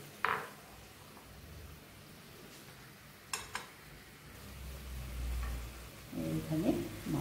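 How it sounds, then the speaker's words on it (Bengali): Katla fish pieces dropped into hot mustard oil with mustard paste, giving a faint steady sizzle with a few brief clinks of utensils, then a louder bubbling fry swelling near the end. "এবার মাছগুলো দিয়ে দেবো।"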